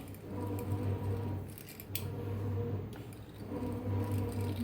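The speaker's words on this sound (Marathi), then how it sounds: "बघा काय छान आलंय काय मस्त कापाय लागलंय" Scissors or a cutter snip through shankarpali dough made from maida in a kitchen, several soft crisp cuts in an uneven rhythm, faint and close, with no talking.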